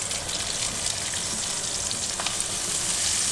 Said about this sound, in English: Quartered baby pearl onions going in to the fat.